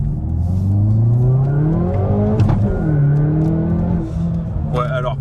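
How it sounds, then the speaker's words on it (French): Hyundai i30N sport hatchback engine and exhaust with its rear exhaust valve open, a loud continuous drone rising and falling through revs, close and steady for about five seconds with a voice talking over it. "Un clapet à échappement, déjà ça s'entend, c'est déjà plus bruyant."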